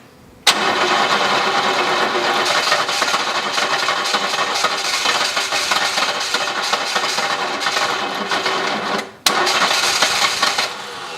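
An engine on a car with a weak, low-voltage battery cranks over continuously for about nine seconds, trying to start but not firing. It pauses briefly, then cranks again, loud and close.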